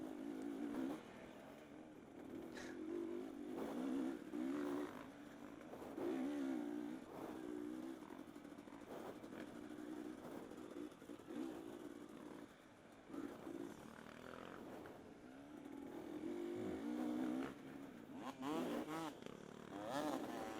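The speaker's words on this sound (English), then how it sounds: "They're revving at these people in front of them, trying to get them out of the way." Dirt bike engines rev and drone in slow, crowded harescramble race traffic on a 2021 open course, with repeated rising and falling throttle blips at moderate distance alongside occasional talking.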